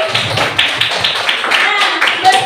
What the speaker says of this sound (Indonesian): tepuk tangan untuk Ibu Sekolah tadi